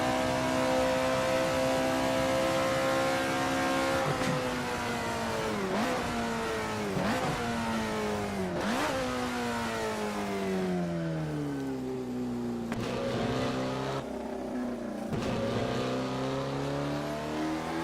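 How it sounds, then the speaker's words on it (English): Alfa Romeo 33 Stradale engine and exhaust in the racing game Assetto Corsa, revving up and down through gears with rising and falling pitch, loud and close, with sharp exhaust pops and backfires on the overrun. "you can hear the engine pull a vacuum momentarily, and then it barks out the exhaust with that backfire on the overrun."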